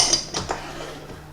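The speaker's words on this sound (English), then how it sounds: "So we'll stick that all together, all our dry ingredients, and then we'll go ahead and whisk that together" A whisk clinks against a bowl while stirring flour, paprika and other dry ingredients, giving a few quick metallic taps followed by a softer, fading scrape.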